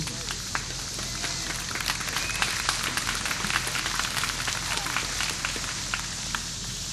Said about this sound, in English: I love it when wildlife conservation work gets applause